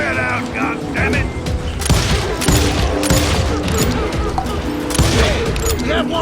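A volley of gunfire from deputies surrounding a homestead in a western shootout in Call of Juarez Gunslinger: rapid overlapping shots and booms, loud and close, mixed with shouted voices and game music.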